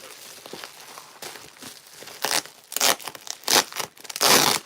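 Packaging being unwrapped from boxes, several nested inside one another: papery rustling and crinkling that builds into several loud tearing rips, close and irregular.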